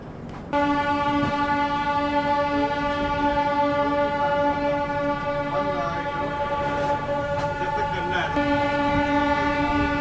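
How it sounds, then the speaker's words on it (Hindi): WAP-7 electric locomotive horn sounding on a Shatabdi train departing Etawah, one long steady loud blast held for nearly the whole stretch with a short break near the end. "आप थोड़ा हॉन्किंग का आनंद लीजिए, कितनी प्यारी हॉन्किंग है वैप 7 की।"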